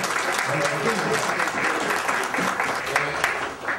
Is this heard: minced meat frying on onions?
no